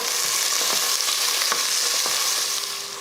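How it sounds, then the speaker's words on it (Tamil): Cinnamon and cloves fry in hot oil in a pressure cooker, a loud, close, steady sizzle with light crackles and faint scraping, no talk. "பட்டை கிராம்பு பொரிஞ்சதுமே"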